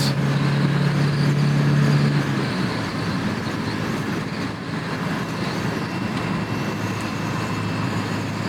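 A 1974 BMW 2002 tii drives along with a continuous engine drone and road rumble inside the cabin, the tone dipping slightly as it shifts from second to third gear, with steady wind and tire noise.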